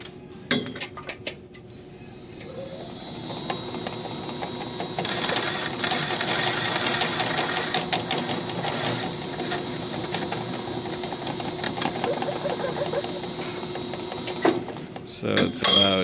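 A Rosenthal smart slitter machine making a cut, a steady mechanical whirring and rattling with a high tonal whine that runs for around ten seconds, close and moderately loud, with occasional talk.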